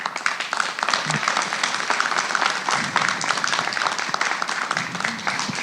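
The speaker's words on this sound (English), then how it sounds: "Yeah, you're clapping for me now." A live audience at a podcast recording claps and applauds in a dense, sustained burst of many hands, loud and steady throughout with no voice on top.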